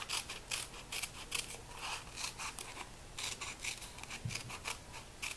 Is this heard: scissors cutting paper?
yes